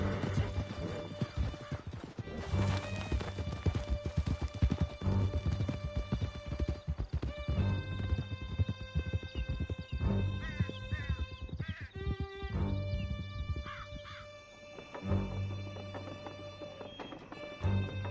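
Horses gallop in a PS4 video game, with a dense, loud, continuous clatter of hooves and occasional whinnies over a full, busy game soundtrack.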